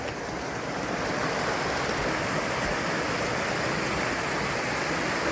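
Fast-flowing woodland stream water rushes in a dense, continuous broadband roar, loud and close throughout with no voices.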